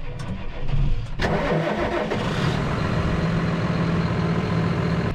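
A tractor engine cranks over and catches, then settles into a loud, steady mid-pitched rumbling idle heard up close in a maize field, with no talking.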